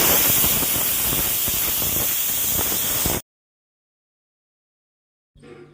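A pressure cooker of lentil dal with yellow cucumber and turmeric vents steam in a loud, steady hiss for about three seconds, then cuts off into silence before a faint noise returns.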